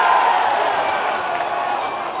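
Big stadium crowd at a South Melbourne v Bentleigh Greens NPL football match roars in a sustained, loud swell as a shot is saved on the line, a dense wall of cheering that holds steady throughout.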